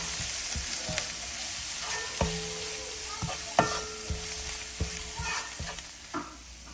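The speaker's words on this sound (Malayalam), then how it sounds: "ഇനി അങ്ങോട്ട് ഇളക്കാം." A spoon stirs Kashmiri chili powder and paprika in a sizzling pan for egg roast, with irregular scraping strokes over a steady soft fry and no talk.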